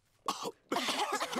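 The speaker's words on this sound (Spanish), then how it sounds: "Los adultos se contagiaron de la tos" Cartoon adults cough in a children's animated scene, with a short hacking cough followed by a longer burst of rough, repeated coughing, loud and close with no talk over it.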